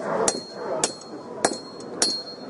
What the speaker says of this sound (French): C'est le jour où on arrive à taper au bon endroit avec le marteau, toujours au même endroit